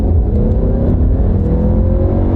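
A four-cylinder car engine pulls hard and steady, its low rumble climbing in pitch as it accelerates continuously, loud and close, with no voices.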